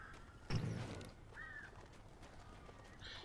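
In Alan Wake Remastered, a single crow caws faintly at a distance, shortly after a dull thump, over a quiet, hissy ambience.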